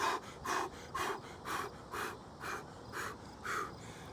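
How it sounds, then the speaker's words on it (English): A person breathes fast on purpose in a quick, steady rhythm of about two breaths per second, each breath a close, breathy huff repeated evenly with no talking. "Fast breathing is like this."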